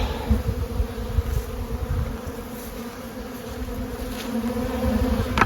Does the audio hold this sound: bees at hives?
yes